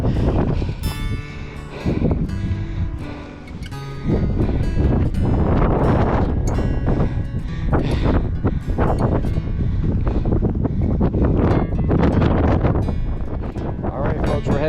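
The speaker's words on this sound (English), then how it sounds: "It's getting a little windy." Strong wind buffets the microphone in gusty, roaring waves near the summit of Picacho Peak, with faint voices now and then.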